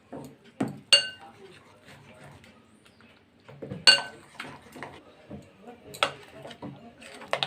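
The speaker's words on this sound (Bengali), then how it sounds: "এটাকে দুধ দিয়ে আমি একটু মিশিয়ে নেব।" Flour and semolina being worked together with milk in a bowl, with a few sharp clinks of utensil against the bowl and soft wet mixing sounds between them.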